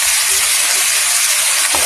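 Napa cabbage (pechay) tossed into a hot pan for egg noodles with char siu pork gives a steady, loud broadband sizzle and hiss that holds for about two seconds, with a small clatter near the end.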